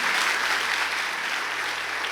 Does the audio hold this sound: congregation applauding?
yes